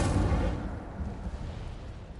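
A roaring fiery burst from the Incendio spell in Hogwarts Legacy, loud at the onset and fading into a rumbling crackle over about two seconds, with no voices.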